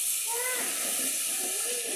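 One chopped tomato hitting hot spiced masala of chili and turmeric powder in a pan, a steady loud hiss and sizzle close up, with faint voice underneath.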